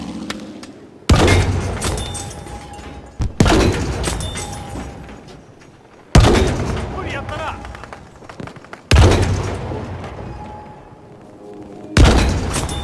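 Battlefield V gunshots crack out as several loud, separate blasts a few seconds apart. Each blast has a sharp attack and a decaying rumble, with players talking between and over them.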